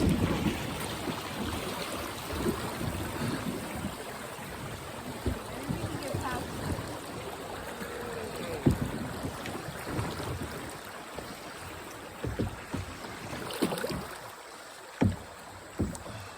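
A heavily loaded canoe scrapes and knocks through shallow water on the Uwharrie River, with splashing paddle strokes and scattered clunks against the hull. Nearby voices talk intermittently over the steady outdoor wash.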